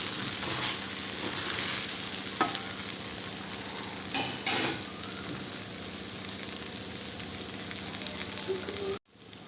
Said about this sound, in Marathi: दुसऱ्या साईडने पण थोडंसं भाजूच